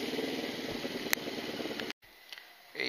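An NK400 motorcycle engine idles with a steady, close, mid-level rumble that cuts out briefly near the end and then returns.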